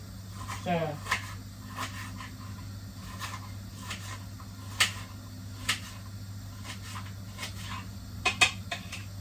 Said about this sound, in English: So just cutting my onion